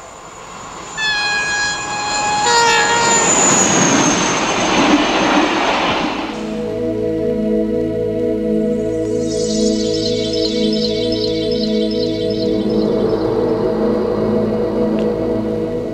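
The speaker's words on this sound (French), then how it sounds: "Avec les RTG, turbotrains de la deuxième génération, la turbine devient reine." An RTG gas turbine turbotrain, a second-generation French turbine train, sounds its horn, then a loud steady turbine whine runs under a rhythmic clatter of wheels on rail joints.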